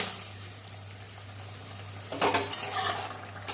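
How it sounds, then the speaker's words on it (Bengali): Lentil dumplings (bori) frying in oil in a wok: a quiet stretch, then a couple of seconds of metal scraping and clattering stir noises with a faint sizzle underneath, ending in a sharp clink. "কড়াই তেল হয়ে গেছে বড়িগুলো ভেজে নেব"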